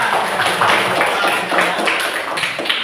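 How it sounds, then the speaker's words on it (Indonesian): Children in a sixth-grade primary school classroom clap together in a rhythmic burst, a bright, close patter of many small hands that keeps a loose, repeated beat throughout. "Itu tepuk tangan juga"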